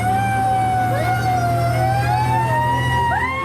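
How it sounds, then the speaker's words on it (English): Wailing emergency siren rising and falling in pitch, loud and close over a steady low engine drone. "Turn the siren on. Turn the siren on."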